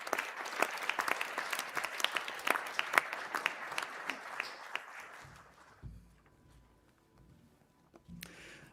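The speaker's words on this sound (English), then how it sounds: "Please give the graduates from this programme a round of applause." A crowd at a university graduation ceremony applauds with dense, steady clapping that fades out after several seconds, leaving quiet room noise and a faint low thump.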